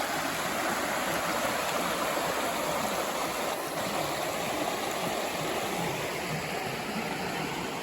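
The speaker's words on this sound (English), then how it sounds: "It's a river coming straight through the property." A river flows through rugged bushland property in the Scenic Rim, giving a steady broadband rush of water that stays constant and fairly close throughout, with no voices.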